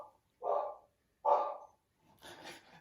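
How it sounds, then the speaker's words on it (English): A pet dog barks twice, moderately close, two separate woofs a second apart, followed by a short burst of rougher, breathy noise; no talking over it. "My dog is barking at you."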